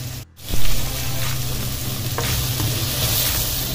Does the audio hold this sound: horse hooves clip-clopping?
no